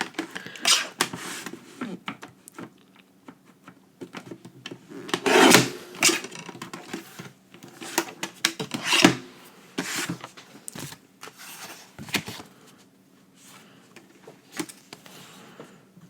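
Card stock being cut for a recycled wedding invitation turned into a wedding card, with intermittent rasping snips and rustling handling noises at close range in a quiet room.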